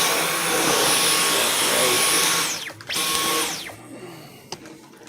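A Dyson V11 Extra cordless vacuum cleaner runs loud and close on low carpet, a steady high whine that winds down, briefly restarts, then spins down again into quiet.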